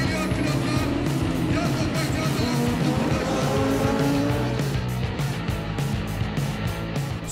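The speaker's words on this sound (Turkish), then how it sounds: "Start veriliyor ve yarış tüm hızıyla başlıyor." Race cars roaring off the line at the start of a Volkicar V1 Challenge 2016 race, a dense loud wall of revving engines with tire squeal throughout and a commentator talking over it.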